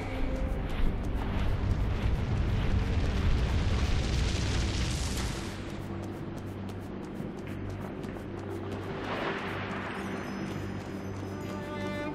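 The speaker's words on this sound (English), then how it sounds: "Careful, those flare-ups will cook you alive." Fiery flare-up explosions in the video game Dungeon Siege 3 roar as a dense, continuous rumbling blast that eases after a few seconds into a lower rushing hiss, with no talking.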